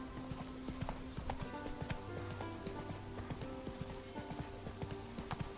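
Roach's hooves galloping in The Witcher 3 video game, a fast rhythmic clip-clop continuing throughout, faint and steady over a soft game music backdrop.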